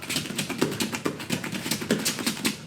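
Quick, light footfalls from Muay Thai switch-kick footwork, a steady run of soft shuffling taps and scuffs on the floor, close and fairly even in rhythm, with no talking.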